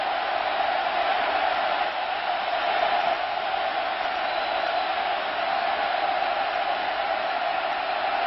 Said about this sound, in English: Crowd is trying to help the cause for the Longhorns.